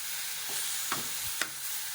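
Ingredients being sautéed with a little salt in a pan give a steady sizzle broken by a few sharp scrapes of a stirring spoon, close and alone with no voices.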